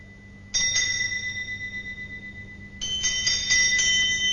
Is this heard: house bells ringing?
yes